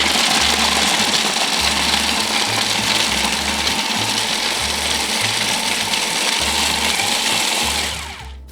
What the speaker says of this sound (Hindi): इसीलिए मैं इसे अच्छे से ग्राइंड कर रही हूँ so that you can't really tell that they are nuts